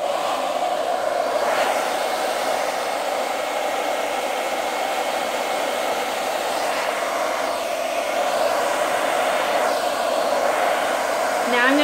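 A hair dryer blows on high heat while styling a wig, a steady loud whoosh running throughout with no pauses.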